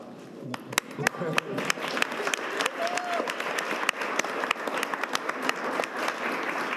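Clapping from an audience at a city council meeting in a hall, scattered claps and a broader ripple of applause, moderately distant, with a voice speaking over parts of it.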